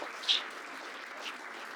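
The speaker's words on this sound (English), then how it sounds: "A round of applause for Joe." Audience applause for a participant at a science talk: a steady, moderate wash of clapping from a room of people, with a slight swell near the start.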